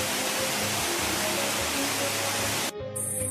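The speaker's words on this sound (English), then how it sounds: "Waterfall." A waterfall gives a dense, unbroken roar of falling water, loud and even, with a brief break near the end.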